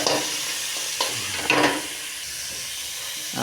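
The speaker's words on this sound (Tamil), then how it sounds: "உப்பு தேவையான அளவுக்கு போட்டு அப்படியே நல்லா வதக்க வேண்டியது." Sautéing in a pan with salt added: a steady sizzle and hiss with a few louder bursts of frying and stirring, close by, and no voices.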